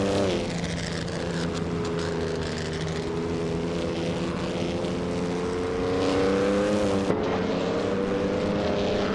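A classic Maserati 250F with a 3.5-litre engine racing in a video game, its loud, sustained engine note droning and rising in pitch with a shift near the end, mixed with other racing cars.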